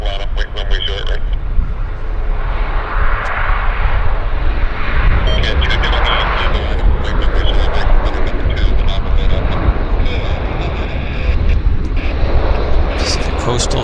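A Pacific Coastal Saab 340 turboprop takes off at Vancouver Airport, a loud, steady engine roar heard under near-constant air traffic control radio chatter.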